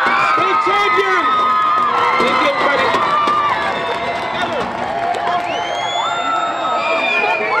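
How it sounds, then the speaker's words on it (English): A large high school soccer crowd at a home jersey retirement ceremony cheers, whoops and applauds the 2017 state champions, a sustained loud roar with children's shouts and whistles layered throughout. "let me give a big round of applause to all our 2017 state champions"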